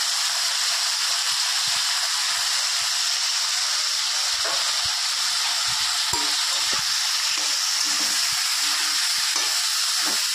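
Potatoes fry with turmeric in a pan of oil, giving a steady, loud sizzle throughout with faint stirring scrapes.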